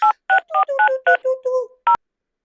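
A quick run of telephone keypad dialing tones: about nine short, clean beeps in a slightly uneven rhythm, close and clear with no talking.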